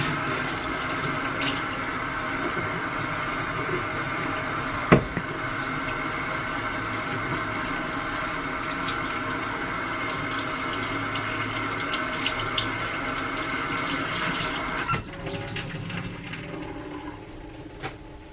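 Water runs steadily from a kitchen tap for hand washing after handling meat, a continuous close hiss that stops abruptly near the end, with a brief knock partway through.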